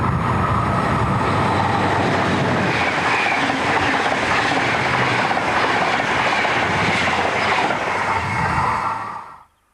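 DB Class 103 electric locomotive 103219 rushing past at Duisburg-Rahm: a loud, steady roar and rumble of wheels and rail noise that fills almost ten seconds and then cuts off sharply as it passes.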